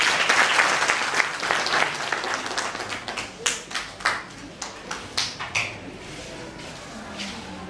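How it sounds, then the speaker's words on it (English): A class claps hands for a student presenter, dense applause that thins out into scattered individual claps before fading. "Let's clap hands for her."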